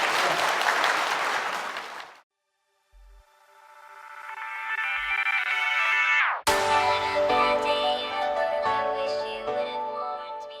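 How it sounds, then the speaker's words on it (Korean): Audience applause at the close of a real estate tax lecture: a short burst of clapping that ends abruptly, followed by silence and then a rising musical tone and a melodic jingle. "네, 다시 한번 박수."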